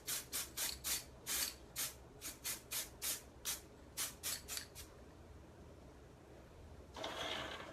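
Aerosol spray can of paint hissing out in a rapid series of about fifteen short bursts, close and crisp, followed by a pause and one longer spray near the end.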